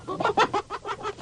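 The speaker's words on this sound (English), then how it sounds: "And so the chickens clucked on the truth" Chickens cluck in a quick run of short, rhythmic clucks, close and moderately loud, lasting about a second.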